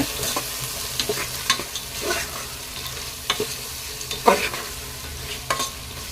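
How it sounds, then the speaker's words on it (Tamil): Beans, carrots and green peas sizzling softly in a pan while a spoon scrapes and taps now and then as they are stirred, close by and without talk. "பீன்ஸ் கேரட்டு கொஞ்சம் பச்சை பட்டாணி போட்டு எல்லாத்தையும் நல்லா வதக்கிக்கலாங்க"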